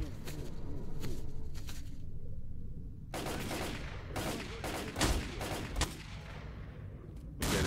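Gunfire in S.T.A.L.K.E.R.: Call of Pripyat, including a sniper rifle, arrives as clusters of sharp shots with near and distant cracks under ambient game background.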